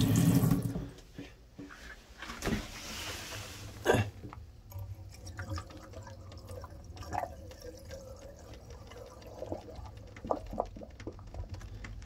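The sump pump on a 34-foot SeaRay Sundancer kicks on while the boat sits in the water, with faint gurgling and splashing of pumped water after a thump, then quieter intermittent trickles and knocks.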